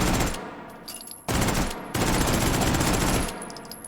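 Mauser carbine automatic fire in the VR shooter H3VR comes as loud, dense bursts, one short volley followed by a longer sustained stream of rapid shots, close and harsh.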